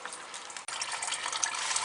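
Coolant draining from the radiator drain plug of a 2007 Toyota Sequoia, a steady close splashing trickle of liquid with a brief dropout partway, then continuing to pour and spatter.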